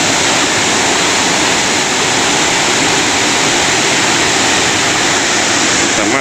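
Powerful, continuous roar of the Mae Had waterfall in Wiang Haeng, Chiang Mai, Thailand, a single-tier fall carrying a heavy flow of water, loud and close with a steady broadband rush throughout.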